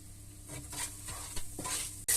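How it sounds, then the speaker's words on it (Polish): Onions sizzle in a hot pan while being stirred with salt and pepper, with soft scraping strokes and a sharp clink at the end. "smażymy na złocisty kolor"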